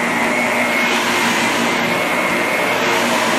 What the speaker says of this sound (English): Vacuuming the floors.